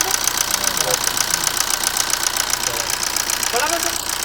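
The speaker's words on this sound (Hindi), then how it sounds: "इंजन की आवाज बदलेगी और ये कंप्रेसर चालू होगा" A car engine idling under extra load as the air-conditioning compressor engages, giving a continuous close mechanical hum with a knocking rattle and a faint voice in the background.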